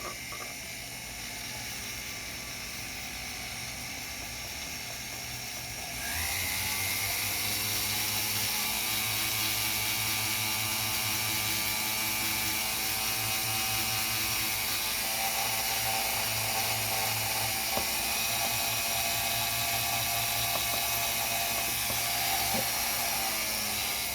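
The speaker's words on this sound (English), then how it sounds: "I'm going to use what is essentially a brass brush, and it's on my flex shaft" A brass brush spinning on a jeweler's flex shaft cleans a floating pearl pendant near its post. A steady high motor whine rises in pitch a few seconds in and then holds, with a continuous light scrubbing hiss throughout.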